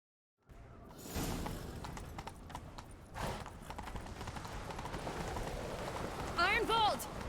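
Horse galloping in The Witcher 3 video game, a steady, busy run of hoofbeats that lasts the whole stretch, with other game sounds and a sharp whistling tone near the end.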